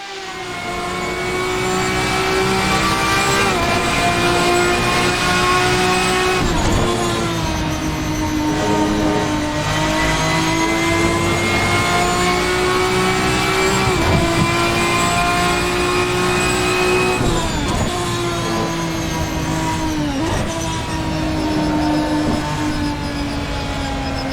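A late-1990s to mid-2000s BMW V12 endurance race car engine in the Assetto Corsa racing sim roars loudly and continuously, its pitch climbing through the revs and dipping sharply at each of several gear shifts.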